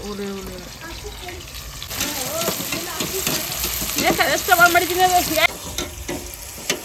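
Food sizzling and frying on a stove set up on a home terrace, a steady hiss under people talking and calling out nearby.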